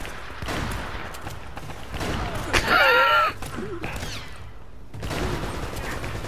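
Gunfire from a shootout in the Uncharted: Drake's Fortune video game crackles in bursts, with a heavier volley and mechanical clatter in the middle, mixed with game effects and a brief voice.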